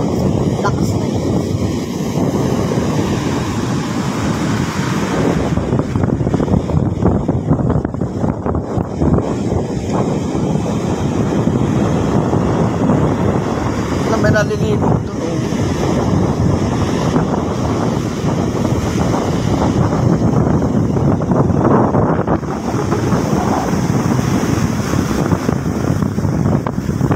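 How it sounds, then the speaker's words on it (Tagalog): Strong typhoon wind buffets the microphone while large waves crash on the Cagayan coast during Typhoon Maring, a loud continuous roar with surging surf and people talking under it. "Ang grabe, lalaki ng alon."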